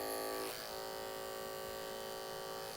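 An electric hair clipper fitted with a large clipper comb hums steadily and close, cutting hair behind the ear on a Great Gatsby-style haircut, its buzz changing slightly as the blades meet the hair.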